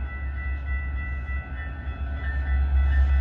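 Metra Milwaukee District West Line train 2227 to Big Timber pulls into Franklin Park station with a loud, steady low rumble and sustained tonal hum that swells slightly as it draws closer.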